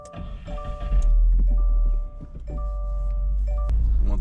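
A Subaru WRX TR on the move, with a strong low engine and road rumble that holds steady throughout, plus a few faint tonal chimes and small cabin clicks on top.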